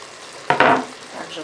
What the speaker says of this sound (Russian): Теперь добавляем чеснок. Мелко порезанную грудинку.